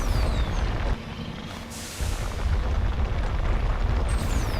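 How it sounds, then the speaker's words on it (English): A vehicle blows up in the video game Mass Effect with a heavy booming blast, followed by a brief lull, another rough burst and a continuing rumbling roar of fire and debris. "I'm gonna blow up my vehicle."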